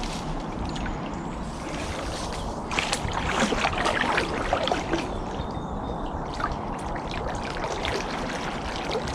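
Fast-flowing water of the River Soar rushing and splashing around a paddle board, a steady broadband wash with brief louder paddle splashes, close and continuous.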